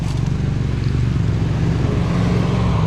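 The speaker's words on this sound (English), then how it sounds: "Here we are on the side of a busy road" Busy roadside traffic, with cars and motorcycles passing as a loud, steady, close engine roar and rumble and no pauses.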